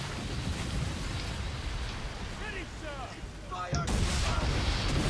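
Cannon fire from a sailing ship blasting obstacles apart in Assassin's Creed 3, heard as broad booming blasts over constant wind and sea noise, with a heavier burst near the end.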